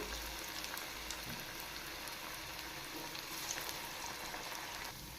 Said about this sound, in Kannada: ಎಣ್ಣೆ ಕಾದಿದೆ, ಅಲ್ಲಿ ಬಿಡ್ತಾಯಿದ್ದೀನಿ.